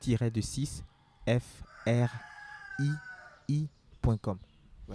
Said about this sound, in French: il y a un coq qui chante